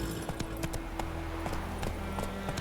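A horse galloping in The Witcher 3, its hooves sounding as a steady quick clip-clop with a soft background hum, fairly quiet and moderately close.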